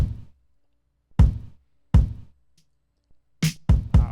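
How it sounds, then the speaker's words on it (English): A kick drum in a beat loop thumps alone in a handful of deep, punchy hits with short decays, spaced unevenly, ending in a quicker cluster of three. "we'll probably want the kick drum"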